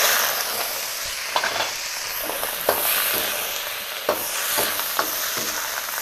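Pork kidney being stir-fried in a wok, a loud steady sizzle broken by repeated clacks and scrapes of the spatula, with no talk.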